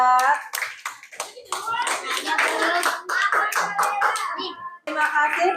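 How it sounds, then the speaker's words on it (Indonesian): Students in a classroom clap for a presenting group, quick rhythmic hand claps mixed with children's voices and chatter. "Beri tepuk tangan untuk kelompok 4."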